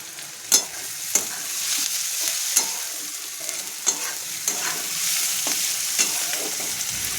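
Onions fry in a wok with a bright, steady sizzle, punctuated by about eight sharp scrapes and knocks from a stirring utensil, nearby and without speech.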